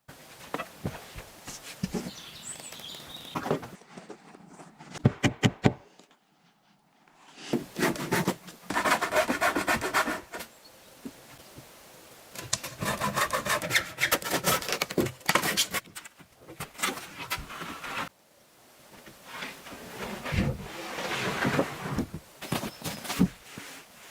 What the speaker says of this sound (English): wooden planks are being laid in rows on the roof and securely fastened with nails